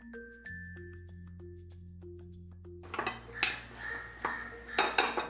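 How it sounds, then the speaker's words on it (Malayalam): A utensil mixes all-purpose flour with baking powder in a bowl. Light clinks come first, then a run of louder scraping knocks against the bowl that grows busier toward the end. "ഇനി എടുത്ത് വെച്ചിരിക്കുന്ന ഓൾ പർപ്പസ് ഫ്ലോറിലേക്ക് ബേക്കിംഗ് പൗഡർ ചേർത്ത് ഒന്ന് മിക്സ് ചെയ്തെടുക്കാം"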